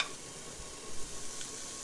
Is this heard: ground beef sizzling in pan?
yes